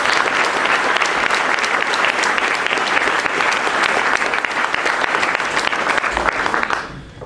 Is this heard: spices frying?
no